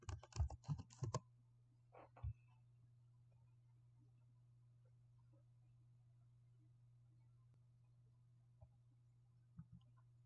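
A burst of quick keystrokes on a computer keyboard types a web search, a rapid close clatter lasting about a second, then a couple of isolated taps and a lone click later over a quiet steady hum.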